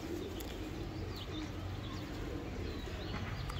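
Loft pigeons of a flying line coo softly in steady low murmurs against a constant background hiss, with no one talking nearby.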